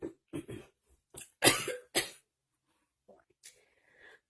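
A woman coughs several times in short, close bursts, the hard hacks clustered together, followed by a few faint breaths and small throat sounds in quiet.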